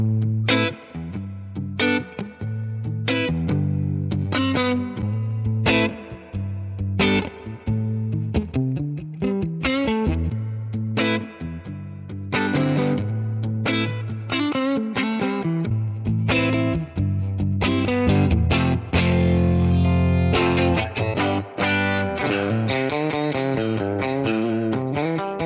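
Electric guitar played through a Fender Tonemaster combo amp with an attenuator, the amp turned up high: a loud, sustained run of chords and single-note lines with a warm, driven tone, continuous for the whole stretch with no talking.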